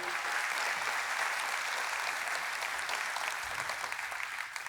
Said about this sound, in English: let's give Dylan a big round of applause, everybody